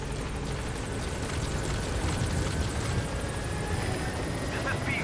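A helicopter approaching a landing zone in Metal Gear Solid V: a steady, whirring rotor drone that runs continuously at moderate level with faint background game sounds.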